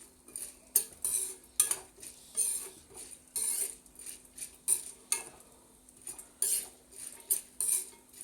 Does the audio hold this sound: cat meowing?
no